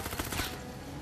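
Suppressed PL 130 Specter gunfire in Fortnite Save the World, two quick muffled shots close together in the first half second, followed by quiet game ambience.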